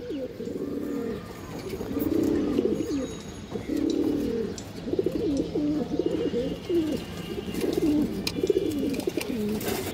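Old-line pigeons cooing in repeated rolling phrases, close and clear, with a few faint chirps in the background and no talk.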